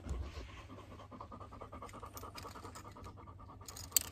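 A guide dog pants steadily at close range, a quick, rhythmic breathing that carries on throughout, fairly quiet, with a brief sharp click near the end.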